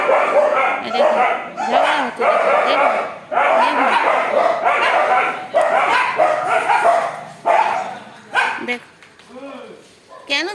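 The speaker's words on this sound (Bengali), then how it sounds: "এই টমি এখন সব কটা এসে লড়াই করতে হবে লাল রঙের কুকুর এসছে" Several neighbourhood dogs, one of them red-coated, fighting at close range: loud overlapping barks, growls and yips in dense bursts, easing into scattered whimpers near the end.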